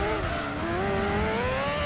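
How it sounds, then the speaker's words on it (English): A rear-wheel-drive Formula 1 car with nearly 800 horsepower racing in the Gran Turismo 2 video game, its engine whining loud and steady with rising pitch, tires faintly squealing, heard alone. "it's still a rear-wheel drive F1 car with nearly 800 horsepower"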